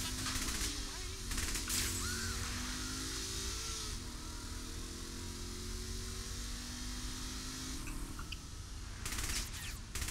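A car engine in Saints Row The Third revs and climbs steadily in pitch as it accelerates. It runs continuously under sharp bursts of gunfire-like noise near the start and end.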